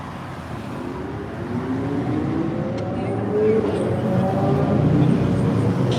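Motorcycle engines drone past at night in a steady roar with rising and falling pitch, several going by one after another; nobody speaks.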